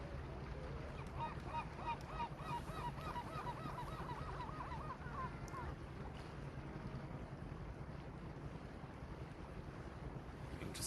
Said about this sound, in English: Interesting noises and giant birds in the sky.